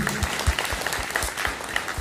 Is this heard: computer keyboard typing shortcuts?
no